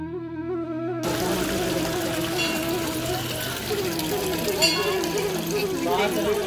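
Abhishek water flows out of Trimbakeshwar temple as a continuous rushing wash, with voices talking over the flow throughout.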